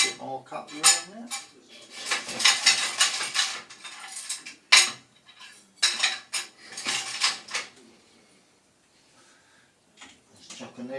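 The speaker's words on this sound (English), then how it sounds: "A bit more cutlery in there." Metal cutlery clatters against dishes as pieces are dropped in, loading a dishwasher or rack, with bursts of rattling and clinks separated by brief pauses, close and fairly loud.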